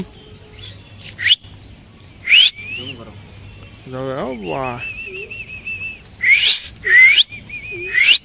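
A person whistles at Pradyuman Park Zoo in Rajkot beside emu and wild dog enclosures: several sharp rising whistle bursts, then a warbling slide and a sustained held tone, moderately loud and close.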